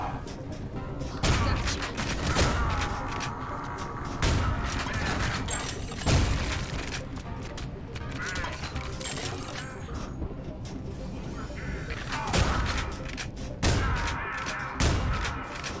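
Gunfire and explosions in the retro first-person shooter Ion Fury, repeated heavy shots and thumping blasts in uneven bursts across the whole stretch, with a player talking over the game at times.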